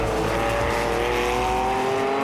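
Vintage racing cars, an AC Cobra and a Chevron B19, battle wheel to wheel on a circuit, engines droning loudly in a steady rising tone with no break or talk.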